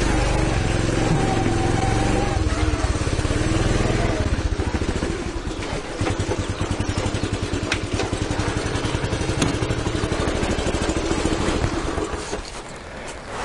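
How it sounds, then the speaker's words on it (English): A cold carbureted motorcycle engine runs unevenly before warming up, a loud continuous rumble close by with a rough, pulsing low clatter through the middle. "Another thing with carbureted bikes, until they're warmed up, it does this shit."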